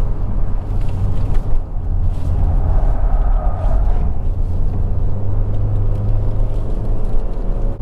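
A SsangYong Torres engine shifted into manual gear mode accelerates with a steady low rumbling drone and whir, continuous and fairly loud throughout, with no talking over it.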